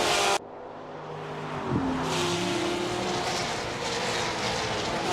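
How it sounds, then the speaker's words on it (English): In a racing video game, race cars on the formation lap at Spa-Francorchamps roll along with a steady engine drone and rushing wind-like noise, after an abrupt cut at the start, with one pitch sweep. "We are right now on the formation lap. Everyone is driving out to start their"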